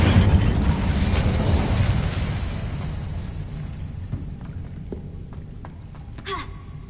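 An Incendio fire spell cast in a Hogwarts video game bursts out as a loud fiery whoosh that fades over several seconds into a quieter crackling tail, with a few light effect chimes near the end.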